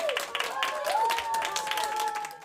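Hospital nurses and doctors at a children's hospital applaud and cheer, a moderate crowd of scattered claps with whoops and cheering voices over the top, continuous for a couple of seconds.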